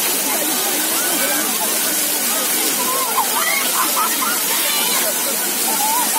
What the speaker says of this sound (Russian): Я ничего не слышу, я только воду слышу.